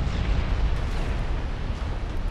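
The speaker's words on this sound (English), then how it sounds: "Another ammo explosion on the Hindenburg." Ammunition magazine detonation aboard the German warship Hindenburg during a naval battle in Ultimate Admiral: Dreadnoughts, a loud, sustained rumbling blast with dense low-end roar filling the whole moment, no voices.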